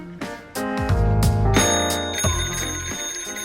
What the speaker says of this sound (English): we're going to hook it up to the bell on the telephone, on the Western Electric telephone, and see if it'll make it ring